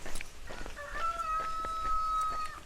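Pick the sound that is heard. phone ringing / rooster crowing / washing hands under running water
rooster crowing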